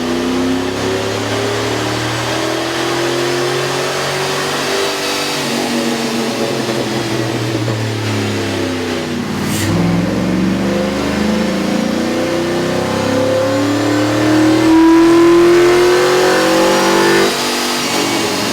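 A 2003 Cadillac Escalade with a 6.0-liter engine and aftermarket air intake revs on a dyno, its pitch climbing and falling in long sweeps with a loud, continuous engine note and no talking.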